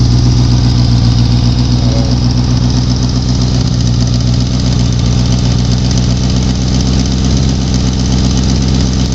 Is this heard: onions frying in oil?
no